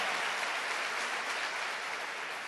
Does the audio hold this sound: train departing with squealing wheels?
no